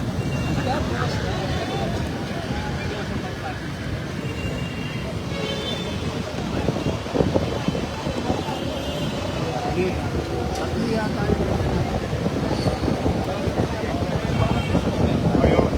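Steady wind buffets the microphone throughout on a flooded street at Taft Avenue, Manila, a constant rushing roar with faint traffic-like rumble underneath and no clear pauses.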